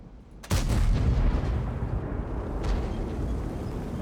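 The ST-II tank's gun fires once in World of Tanks, a single loud, close boom followed by a deep rumbling tail and ongoing battle noise.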